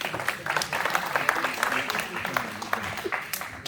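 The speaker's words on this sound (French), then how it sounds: "applaudissez les frères" Applause from an audience at a religious question-and-answer quiz, a steady dense patter of many hands clapping at moderate loudness for several seconds, with voices talking over it.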